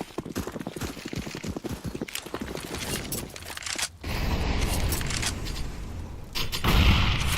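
Two grenade blasts burst in a CS:GO match, a sharp crack followed a few seconds later by a heavier, louder boom, over busy game noise with quick rhythmic footsteps beforehand.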